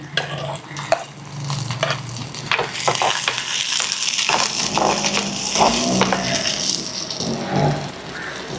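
Sliced shallots and green chillies fry in hot oil for a peanut gravy, giving a steady close sizzle broken by the scrape and rattle of stirring in the pan. No one speaks.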